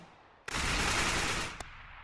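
A dense burst of automatic gunfire from a tactical shooter video game rattles for about a second, followed by one sharp single shot.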